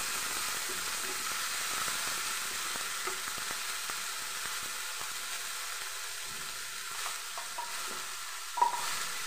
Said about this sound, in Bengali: 2 সেকেন্ড সময় ধরে ফোড়নটাকে ভালো করে ভেজে নেব।